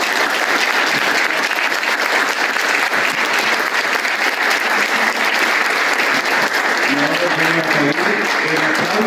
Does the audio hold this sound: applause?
yes